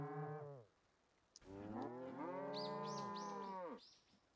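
A cow in the video game Deeeer Simulator lets out two long, drawn-out moos, the second louder and longer, separated by a short quiet gap, with faint squeaky tones over the second call.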